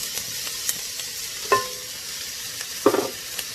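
Shredded carrots sizzle in a frying pan with thyme sprigs for a Caribbean dish. A steady soft frying hiss runs throughout, broken by a few brief stirring clinks.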